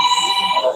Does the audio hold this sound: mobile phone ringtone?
yes